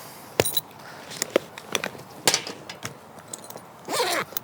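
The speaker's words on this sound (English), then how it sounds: "Gotta love those smooth zippers" Zipper pulled open on a Veto Tech Pac tool bag kept for apartment maintenance, heard up close as a few short clicky bursts followed by a longer smooth rasp near the end.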